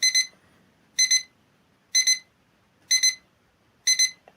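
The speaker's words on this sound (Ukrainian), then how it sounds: "Ось 5 секунд від відкладеного сигналу." A GTY6507 electronic alarm clock beeps its snoozed alarm in quick double pulses, repeating about once a second, high-pitched and close, with faint background noise between.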